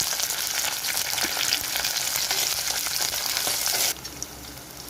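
Shallots, green chillies and curry leaves frying in oil for a Kongu-style fish curry, giving a dense close crackling sizzle that continues steadily and then drops to a softer, quieter fry near the end.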